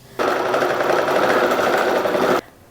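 A sewing machine runs while quilting an Easter quilt, with a fault causing repeated thread breaks: one loud, steady motor whir about two seconds long, starting and stopping abruptly, close up and without talking.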